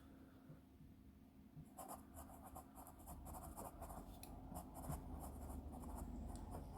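The original infinity pencil writing on paper, a close, continuous run of dry scratchy strokes with rapid short bursts, steady and fairly quiet over low background noise.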